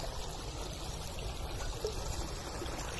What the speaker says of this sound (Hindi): इधर पानी की निकासी हो रही है